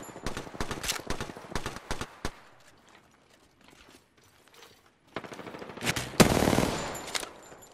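Gunfire in the battle royale video game Apex Legends: rapid automatic bursts and single shots up close, a quieter stretch, then a loud final volley with a crunching impact.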